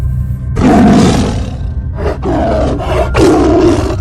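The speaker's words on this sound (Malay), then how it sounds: "Saka harimau Mak Nap mengaum berkali-kali sambil mengelilingi mereka berdua" A tiger spirit roars again and again at night, a series of loud, close, rumbling roars with short breaks between them and no talk over them.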